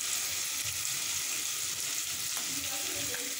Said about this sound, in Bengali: তারপর সবগুলো মশলাকে ভালোভাবে কষিয়ে নিতে হবে